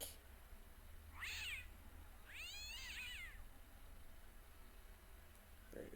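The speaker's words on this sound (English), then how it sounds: "The cat was an ugly brute who looked like he owned the joint." A cat in the Broken Sword adventure game gives two drawn-out, wavering meows about a second apart, standing out clearly over a quiet hiss.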